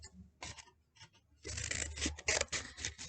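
Scissors snipping through paper to cut out a heart shape, a few short crisp cuts followed by a denser run of rapid close snips and rustling paper, no voices.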